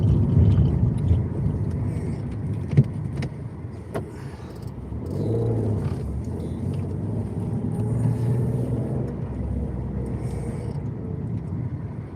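A car driving home from work along a road through grassland and farmland, with a steady low engine and road rumble heard from inside the cabin, continuous and moderately loud, with slight swells as the car speeds up.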